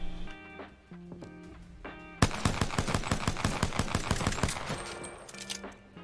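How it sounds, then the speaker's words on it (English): P2020 light pistol in Apex Legends fired in a rapid string of about a dozen crisp, evenly spaced shots, loud and close, between quieter stretches of in-game music and ambience. "You can also fire it just about as fast as you can pull the trigger."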